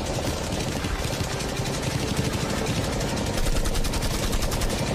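A machine gun fires a dense, unbroken stream of rapid rounds at a Lamborghini, the loud, close rattle steady and relentless throughout with no pauses.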